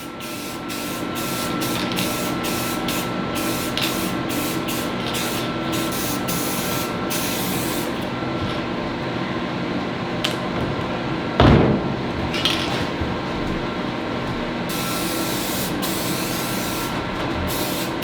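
Aerosol spray paint hisses in steady bursts onto an RV travel trailer's sway bar, a continuous close spray with brief pauses and a sharp knock near the middle, no talking.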